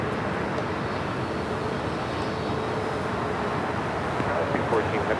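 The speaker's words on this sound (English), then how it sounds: "we do have that Delta 767 finally now crossing over 25 right" Delta Boeing 767 arriving from JFK at Los Angeles International Airport, crossing runway 25 right, a steady broad jet engine roar at moderate distance, continuous with no clear peak.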